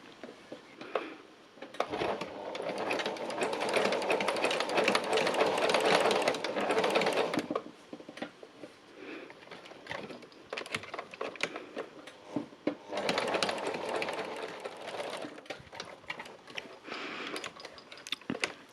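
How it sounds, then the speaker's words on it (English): A sewing machine makes small holding stitches on fabric, running in two steady rapid bursts of mechanical whirring and clatter, separated by a pause filled with soft handling clicks, close and clear with no speech. "I'm just doing little bits of stitching just to hold this in place"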